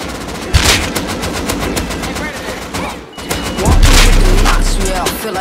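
Rapid close gunshots in the video game Rust during player-versus-player combat, loud bursts of automatic fire with booming impacts, while music with sung vocals and a talking voice play underneath.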